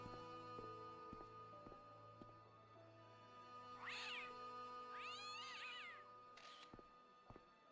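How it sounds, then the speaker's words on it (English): A cat gives two rising, plaintive meows in the middle of a steady low electronic hum and faint clicks, moderately close but not loud, with no talking. "Oh, look, a kitty"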